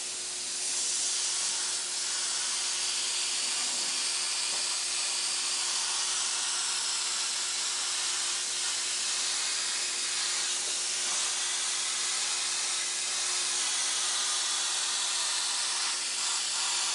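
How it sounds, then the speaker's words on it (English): Airbrush spraying red house-color candy paint over white basecoat, a steady continuous hiss of compressed air and paint mist, close and unbroken with slight fluctuations, heard alone. "Now I got some red back in the airbrush"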